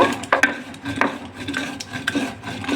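Heated whole spices are ground by hand, giving uneven scraping and rubbing strokes with occasional clicks, close and fairly loud with no voices.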